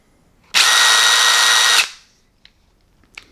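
A Dewalt impact driver (DCF887/DCF889/DCF899HP2) in mode 3, its top speed, runs loud and close steadily for over a second, winds down, followed by a couple of small clicks.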